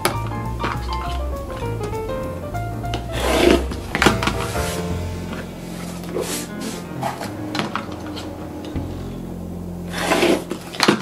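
A quilt block is trimmed along its quarter-inch line with a Trimmer by George ruler, giving close, intermittent scraping and rasping strokes with soft knocks.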